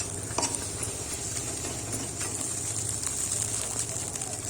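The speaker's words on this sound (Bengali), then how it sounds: "ধনিয়া গুঁড়ো একটু বেশি করে দিয়ে ভালো করে ডিমটাকে ভেজে নিতে হবে ঝুড়ি ঝুড়ির মতন" Eggs fry in a pan of oil with coriander powder and salt while being prepared for chowmein. A steady, close, soft sizzle runs throughout, with occasional light scraping and clinks of a utensil against the pan.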